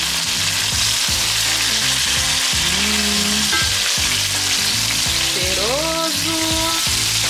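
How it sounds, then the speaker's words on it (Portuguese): Browned meat frying in a pan with a continuous loud sizzle and stirring noises, as garlic is about to go in before rice; a voice briefly speaks over it. "Agora que já dourou bem aqui a carne. Bem moreninha."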